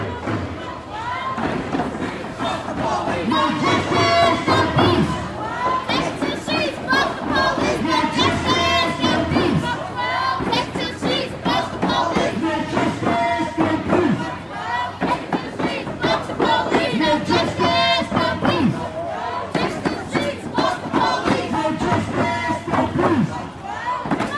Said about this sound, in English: this crowd has definitely grown as we pass through downtown a little bit